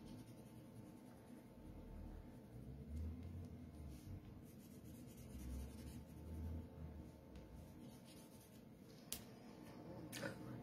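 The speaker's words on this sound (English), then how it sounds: "And using the pencil sideways on." Pencil held sideways, shading softly on paper during a craft project, a faint continuous rubbing hiss under low background rumble, with one or two small ticks near the end.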